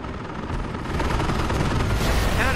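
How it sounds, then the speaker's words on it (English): Gunfire from a World War battle in Company of Heroes: dense, overlapping shots and rattling bursts that build into a sustained, loud barrage lasting a few seconds. "Something else is shooting at us"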